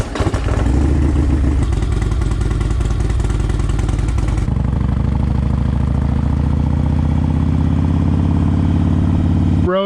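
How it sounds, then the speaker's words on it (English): Motorcycle, a worn and battered bike, riding on the road, its engine a loud continuous roar with rising and falling revs and wind rush, heard close up. "Road review of Bob's bike"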